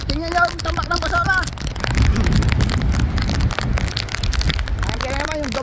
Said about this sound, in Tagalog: Sobrang lakas ng hangin at ulan